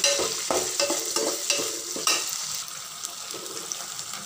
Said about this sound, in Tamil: இப்போது சின்ன வெங்காயத்தை கட் பண்ணி வச்சுருக்கிறத நம்ம அதில் ஆட் பண்ணிக்கலாம் நல்லா வதக்கி விட்டுக்குங்க